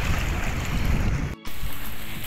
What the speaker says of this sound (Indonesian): Angin kencang, sunyi, suara laut.